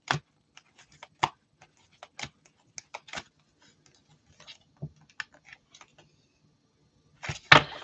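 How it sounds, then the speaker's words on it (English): Large oracle cards being shuffled by hand, sparse soft slaps and riffles close by with quiet pauses between, then a louder burst of card noise at the end. "Even though I love these cards, sometimes it's really hard to shuffle them."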